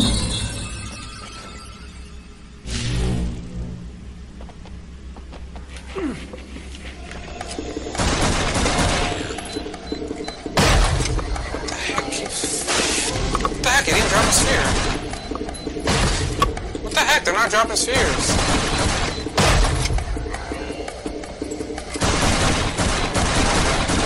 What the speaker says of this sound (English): you could just sit there and eat bullets or whatever this thing is shooting lasers